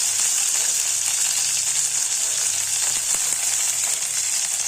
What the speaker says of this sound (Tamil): வெங்காயத்தையும் இதோடு வறுத்துக்கணும்